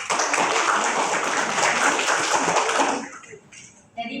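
Classroom applause from students during a microteaching lesson on global warming: dense, steady clapping for about three seconds, then stopping abruptly into quiet room sound.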